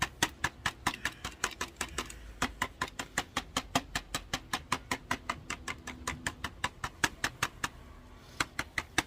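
A Dyson V12 vacuum motor is tapped repeatedly to knock dust loose, giving a long run of sharp, evenly spaced knocks, close and fairly quiet, with no talking.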